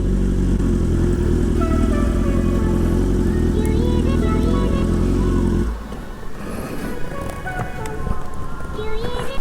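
A motorcycle engine runs loud and close with a steady low rumble on a quiet street near Japan's Kintai Bridge, then cuts out about two-thirds through, leaving softer outdoor ambience, with some talk.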